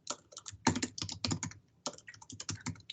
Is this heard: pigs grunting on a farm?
no